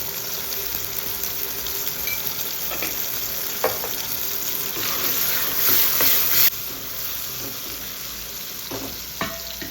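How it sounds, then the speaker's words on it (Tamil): Tomatoes and onions with turmeric cooking in a pan for a spicy kuzhambu, a continuous soft sizzle with occasional stirring scrapes and clinks, close and steady with a brief louder hiss midway, no talk. "தக்காளி வெங்காயம் வெந்துக்கிட்டே இருக்குது"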